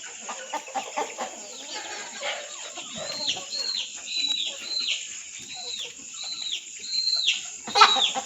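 Country chickens roosting on bamboo at night cluck softly and repeatedly at close range, a steady run of short calls over a quiet background with faint rustling.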